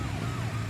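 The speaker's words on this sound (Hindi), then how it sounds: "एम्बुलेंस हॉर्न दे रही है, सुनाई नहीं दे रहा है क्या?" An ambulance siren wails steadily with a gliding tone over low rumbling traffic noise, fairly close and continuous.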